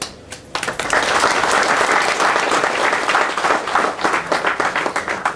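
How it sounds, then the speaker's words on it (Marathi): Loud, sustained applause from a large audience at a college welcome event, dense clapping that fills the whole stretch after a brief quieter start. "एक जोरदार टाळ्या या कॉलेजला"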